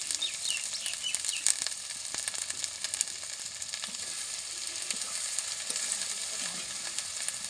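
Spices frying in a pan for a Bengali dish as turmeric powder is added, giving a loud, continuous, close hiss with faint birds chirping in the distance.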